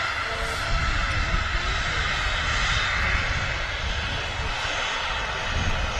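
A Ryanair Boeing 737-800 departing Manchester Airport gives a loud, continuous engine roar from a distance, broad and steady throughout.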